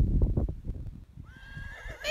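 A horse neighs as a story sound effect for a horse grazing in a pasture: a loud, close, rising whinny with hoof-like thumps beneath it, alone with no speech.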